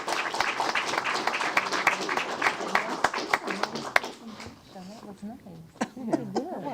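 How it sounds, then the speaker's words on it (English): Applause at a Temple Terrace city council meeting: a room of people claps steadily for about four seconds, with voices and light laughter mixed in before the clapping thins out. "let's give them a round of applause"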